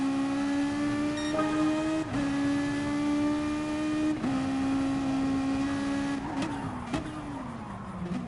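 GT3 race car engines at Spa in Gran Turismo Sport, near the Blanchimont corner, drone steadily at high revs with brief dips at gear changes, then rasp and fluctuate as cars run close together near the end.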